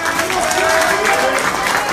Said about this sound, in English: Please welcome, big round of applause for the miracle man, Daniel